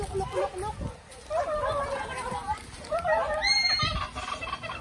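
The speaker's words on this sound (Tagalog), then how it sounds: "may pabo digle. Pabo yan." A turkey gobbles in rapid warbling bursts, fairly close, amid other poultry calls while people talk nearby.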